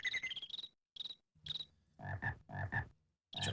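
A frog wearing a little crown in the King's Quest video game gives a quick run of bright, chirping croaks, then a few deeper, fuller ones after a brief pause, heard alone without talk.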